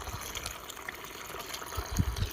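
Water drawn from a well rushes steadily into a pesticide sprayer pump tank, with a few dull thumps toward the end and no voices.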